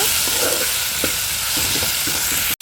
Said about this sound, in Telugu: స్టార్ ఫ్రూట్స్ని ఎక్కువసేపు ఫ్రై చేయాల్సిన అవసరం లేదండి లైట్గా ఫ్రై అయితే సరిపోతుంది